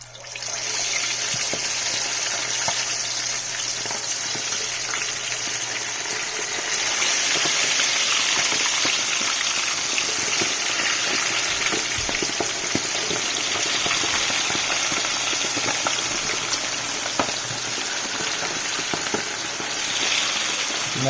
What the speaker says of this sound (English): Alright, so let's begin to fry.